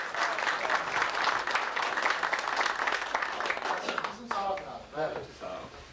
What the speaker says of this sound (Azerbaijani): ayrılıqda alqışlayaq Sabir bəyi, sonra Nurəddin bəyi